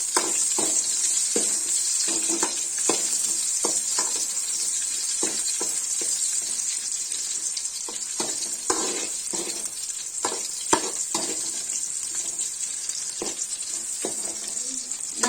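Chickpea (kadle) dish frying and being stirred in a pan, a continuous close sizzle with frequent scraping spoon strokes throughout.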